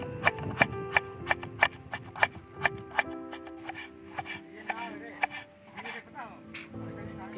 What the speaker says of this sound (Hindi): हम सबसे पहले प्याज को कीमा कटिंग करेंगे।